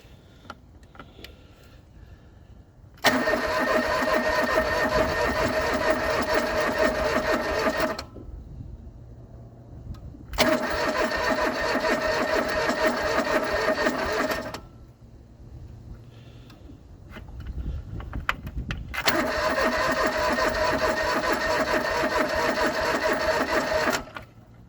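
The fuel-injected engine of a John Deere 445 garden tractor cranks without catching: three separate bursts of steady whirring, each around five seconds long, with quiet pauses between them.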